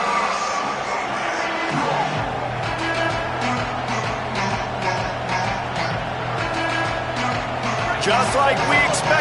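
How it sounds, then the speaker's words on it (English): A home crowd cheers at a football game, a continuous roar of stadium noise with rising swells, heard under a commentator's voice throughout. "this home crowd getting involved right from the start"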